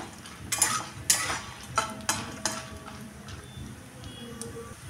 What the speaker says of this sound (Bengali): বাদামগুলো একটু ভাজা ভাজা করে নেব।